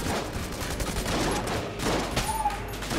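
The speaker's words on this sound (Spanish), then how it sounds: "en cuanto a disparos sí es buena, pero por lo visto hace muy poco daño" Rapid gunfire from a weapon in the video game Enter the Gungeon crackles in a dense, continuous burst of shots across the whole stretch, loud and close with no gaps.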